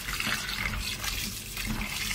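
Tap water runs steadily into a sink as beef ingredients for bulalo soup are rinsed, a close, continuous splashing rush with no talk.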